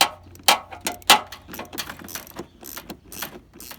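A hand ratchet loosens T15 star bolts on a 2007-13 Silverado headlight, a close series of quick clicking bursts in an uneven rhythm.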